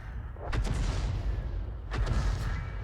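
A 105 leFH18B2 howitzer firing in a video game, two heavy distant booms about a second and a half apart over a steady low rumble; no talking.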